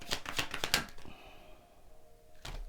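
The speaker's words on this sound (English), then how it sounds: "When I was shuffling and the cards they started to come apart" A deck of tarot cards being shuffled by hand: a quick run of crisp riffling flutters for about a second, a quiet pause, then a brief riffle again at the end.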